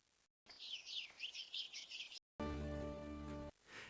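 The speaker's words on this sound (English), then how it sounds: "Listen, the birds are singing." Quiet, rapid high chirping of birds in a repeated trill, followed by a short steady humming tone.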